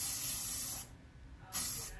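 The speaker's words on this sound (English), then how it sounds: "Apply a little bit more hairspray to create extra fullness and to also hold the curl." Hairspray bursts from an aerosol can onto hair while styling a textured ponytail, two close hissing sprays split by a short pause.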